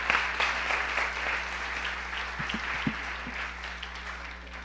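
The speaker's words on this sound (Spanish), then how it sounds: "Démosle un aplauso al Señor." A church congregation applauds during a Spanish-language service, sustained steady clapping from many hands that fills the room, moderately loud, over a low steady electrical hum, with no talking.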